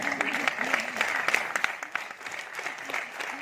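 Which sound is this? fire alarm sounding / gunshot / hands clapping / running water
hands clapping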